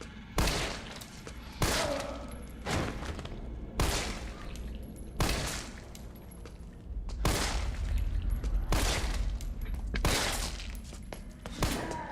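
Pistol fire from the Resident Evil 3 Remake video game rings out as a dozen or so sharp, loud shots spaced about a second apart, each a bright crack over a low rumbling game backdrop.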